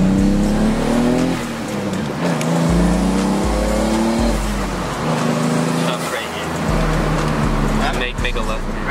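A 2JZ turbo-swapped BMW drives hard, its engine note climbing through repeated revving pulls and gear shifts, loud and sustained with road and wind noise, while people talk over it.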